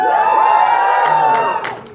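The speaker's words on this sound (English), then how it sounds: "Cheer if you're Team Cap." An audience at a film Q&A event for Avengers: Infinity War cheers loudly for Team Cap, a dense burst of crowd shouting and whooping that holds steady for about two seconds before tapering off.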